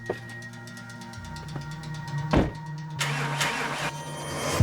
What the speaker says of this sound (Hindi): इसके स्टार्टर में थोड़ी प्रॉब्लम आ रही है, चेक करके देखो क्या।